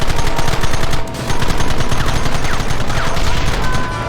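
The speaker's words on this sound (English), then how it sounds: "Gun them down!" Loud, dense, continuous gunfire from several guns in the video game Red Dead Redemption, a rapid crackle of shots with no pause.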